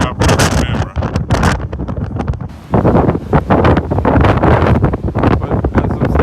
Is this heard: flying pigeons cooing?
no